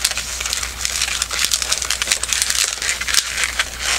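A long twisting balloon is worked into bubbles and pinch twists, producing loud, close rubbery squeaks and crinkly rubbing that run continuously with rapid, irregular bursts, without any talking.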